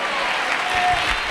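A church congregation applauding, a brief, dense wash of clapping from many hands filling the room at a steady level.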